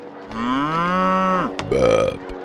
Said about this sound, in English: did you say burping cows?